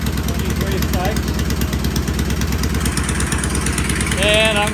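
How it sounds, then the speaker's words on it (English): A vintage British race motorcycle engine idles steadily and close, with a continuous low throbbing pulse throughout and a slight rise near the end. "So we got a good first start, got a good idle, got a good rev"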